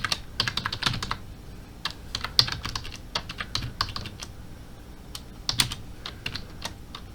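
Quick, light clicks of typing on a computer keyboard while writing code come in uneven bursts with short pauses, close-up and fairly quiet, with no voices.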